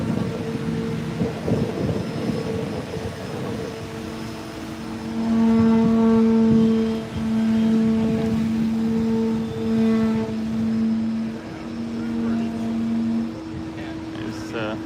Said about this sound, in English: Chevy Beretta.